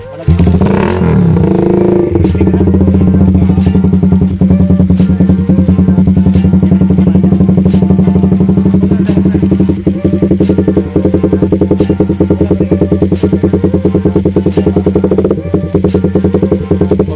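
A motorcycle fitted with an aftermarket exhaust pipe starts up on a temporarily attached gas tank and fuel pump, then idles loud and steady with a deep, continuous throb that runs unbroken for the whole stretch.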